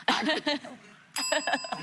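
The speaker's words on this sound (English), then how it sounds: "You can ring your bell." A handheld bell rings twice in bright, ringing bursts on a daytime talk show set, each strike followed by quick shaking, with light chuckling from people nearby.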